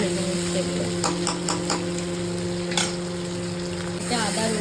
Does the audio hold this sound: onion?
yes